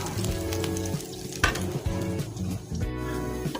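Bananas frying in a pan, a continuous close sizzle with clinks and scrapes of a utensil against the pan, one sharper knock midway, with no voices.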